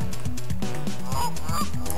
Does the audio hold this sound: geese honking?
yes